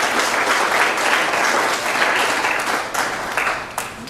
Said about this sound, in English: a round of applause for all of our directors this year